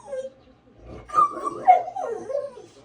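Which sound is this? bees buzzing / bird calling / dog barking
dog barking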